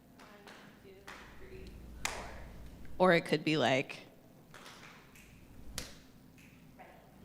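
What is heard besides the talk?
rhythmic clapping, tapping and finger snapping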